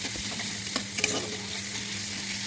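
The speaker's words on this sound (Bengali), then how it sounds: "পেঁয়াজটা একটু ভাজা ভাজা হয়ে যাক, টমেটোটা একটু ভাজা হোক।" Onion and tomato fry in a pan for chowmein-style Maggi, a steady broadband sizzle with a few sharp scrapes and clicks of stirring near the middle, close and even throughout with no talking.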